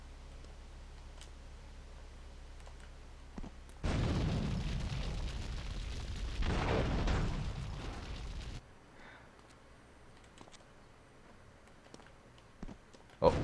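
A grenade goes off in GTA III Definitive Edition, a sudden loud blast followed by a long rumbling roar that cuts off abruptly, then quiet game ambience with small ticks.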